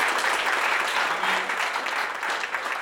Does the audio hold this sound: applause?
yes